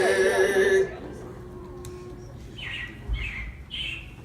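Robins chirping as an animatronic ride effect at the Carousel of Progress in the Magic Kingdom: a few short, bright chirps in quick bursts, moderately close, following a fading music phrase.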